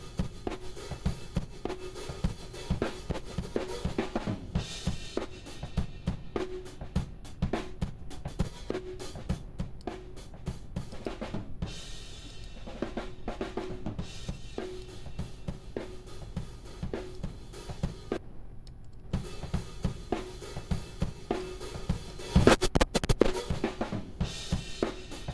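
A drum mix passed through a tape emulation preset in UAD Spark, on a drum bus, plays as a steady, busy beat of punchy hits with a slightly thick, saturated character and no talking.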